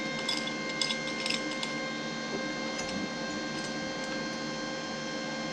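An OZITO 100-amp MIG welder running at about a third of its voltage buzzes and crackles steadily, with irregular small sputtering ticks over a constant electrical hum.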